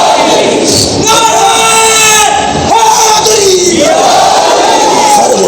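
A crowd chants slogans in loud unison at a religious conference honoring Imam Hussain, with long sustained shouted calls rising and falling, loud and close, repeated in waves.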